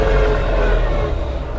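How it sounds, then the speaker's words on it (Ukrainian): Scout 404 tractor engine pulling an Unia 2/30 plough through soil in a garden, a steady loud low drone that stays close and continuous. "показати, попробувати вам, яка нагрузка на двигун і як він витягує"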